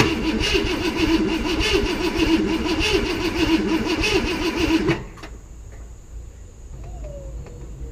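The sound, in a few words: Ford Galaxie 500 engine being cranked to start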